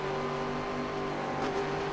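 Race car engines in an iRacing SRX Tour race at Stafford Motor Speedway make a steady, tonal droning whine that holds throughout and swells slightly as a car pushes toward a corner, with no voices.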